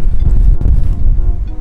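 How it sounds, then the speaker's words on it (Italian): Gusty wind buffeting the microphone in low rumbling bursts outdoors in California, loud and close, with no voices. "c'è un sacco di vento"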